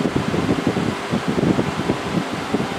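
Inventor 8,000 Btu/h portable air conditioner running on its coldest setting, a steady close whooshing fan rush with a fluttering airflow texture and no voices.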